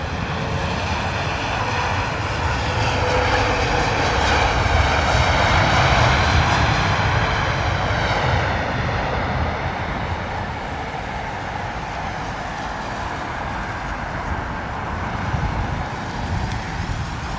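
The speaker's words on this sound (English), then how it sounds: "Boeing 777-200 coming in from Washington, British Airways" A British Airways Boeing 777-200 lands at London Heathrow in wet, windy weather, its engines a loud, steady jet roar with a slowly shifting whine that swells and then holds, sounding alone without any voices.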